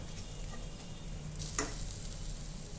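Green chillies sauté in a pan for dry gavar (cluster bean) bhaji, a steady even sizzle with faint stirring and one sharp clink near the middle, no voices.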